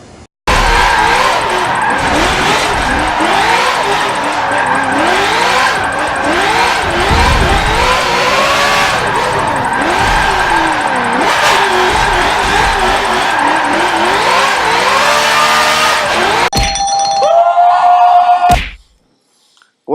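A Nissan S13 Silvia coupe with a drift tune in the racing game Forza 7 revs loudly and steadily, its engine pitch repeatedly climbing and falling under screeching tire squeal, then cuts off abruptly near the end.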